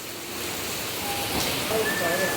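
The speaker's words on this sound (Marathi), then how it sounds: "पाऊस एकदम डोळे टाकून पडता" Heavy rain pours down in a dense, steady hiss, with a faint bird call or two in the background.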